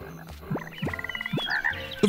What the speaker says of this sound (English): The frogs moved.